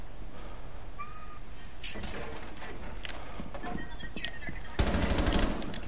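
Gunfire rings out in the tactical shooter Rainbow Six Siege as a couple of quick sharp shots, followed by a louder burst near the end over a busy game background.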